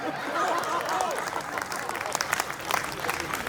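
An audience at a Hindi comedy poetry show (hasya kavi sammelan) bursts into applause that swells briefly and then thins into scattered claps, with murmuring and chuckles mixed in.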